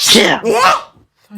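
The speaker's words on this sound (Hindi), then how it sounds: "छिंक आ रही क्या?" A woman sneezes twice in quick succession, loud and close, followed by a brief quiet pause and a short spoken word.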